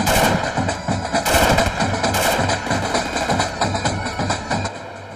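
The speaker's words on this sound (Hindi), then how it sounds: "हम फायरिंग करता है।" Celebratory gunfire at a festive occasion, rapid repeated shots in dense rhythmic bursts, loud and close, continuing steadily throughout.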